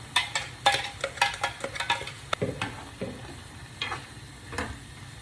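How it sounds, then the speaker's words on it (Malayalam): Pumpkin and pineapple masala bubbles and sizzles in a pan, with a quick run of clinking stirring strokes early on, then softer scattered taps over the simmer; no one speaks. "മസാലയൊക്കെ നല്ലപോലെ തിളച്ചു."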